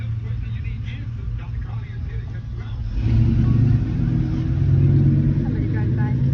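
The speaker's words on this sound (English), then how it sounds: "Somebody driving by." A car passes outside near a trailer park, a steady low engine rumble that swells louder partway through and holds, heard from moderately close with no talking.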